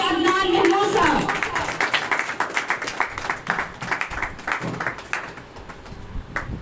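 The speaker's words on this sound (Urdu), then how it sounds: "آپ کی بھرپور تالیوں میں عدنان محمود صاحب." Audience clapping at an opening ceremony for summer vacation courses at a centre for the blind, heard as scattered, uneven claps over a few seconds following a spoken introduction.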